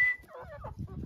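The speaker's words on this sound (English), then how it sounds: "This is how they call the chickens to come." Chickens cluck close by in a quick burst of short, throaty calls, busy and overlapping for about a second.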